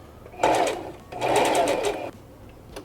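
A slow-running sewing machine stitches wig hair wefts in two close bursts, a short one and then a longer one, each a loud buzzing whirr separated by brief pauses.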